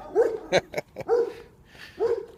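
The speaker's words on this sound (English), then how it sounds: "Oh my goodness, puppy! Noisy. They want to play." A puppy barks playfully and close up in a run of sharp yips and short barks with brief whimpery notes between them, fairly quiet and alone.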